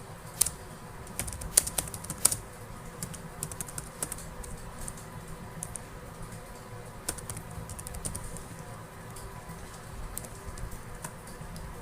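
Computer keyboard typing, quick irregular clicking keystrokes in short bursts, close and fairly quiet with no talk.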